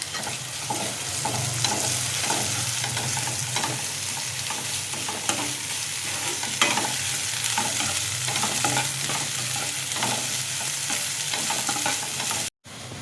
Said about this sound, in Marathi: त्याच्यात आलं लसूण आणि मिरची पेस्ट टाकायची आणि भोपळी मिरची टाकायची. ही पण चांगली फ्राय करून घ्यायची.